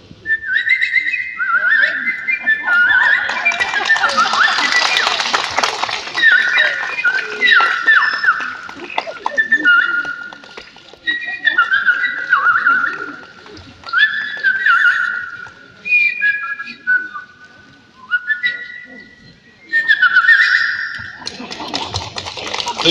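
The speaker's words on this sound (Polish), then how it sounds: "ja też umiem gwizdać" A man whistles a melody in a concert setting, clear, close and loud, with sustained and sliding notes in short phrases separated by brief pauses over about twenty seconds.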